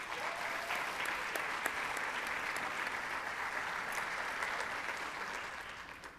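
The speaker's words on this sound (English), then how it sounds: "Give yourselves a round of applause." A room full of nurses at an evening Nurses Week event breaks into sustained applause. The clapping is dense and even from a sizable crowd, easing off slightly at the end, with no talking.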